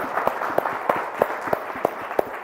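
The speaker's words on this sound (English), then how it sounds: "So let's give a clap to the panelists." An audience applauding panelists at a sustainability report event, a short burst of light, scattered claps with a few distinct hand claps standing out over soft room noise.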